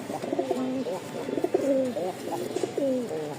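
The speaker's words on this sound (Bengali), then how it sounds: "নরের ডাক দেখেন, রাজশাহীর আবলক বলে কথা।" A male Rajshahi Ablok pigeon calls close by in a series of repeated, rolling coos with brief pauses between phrases, and some faint background noise.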